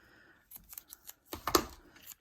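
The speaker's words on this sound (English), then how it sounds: "I'm just going to use a little bit of tear and tape" Tear-and-tape ripped by hand while assembling a paper gift bag: a few short, crackly tearing rasps up close, the loudest burst near the middle, with no talking.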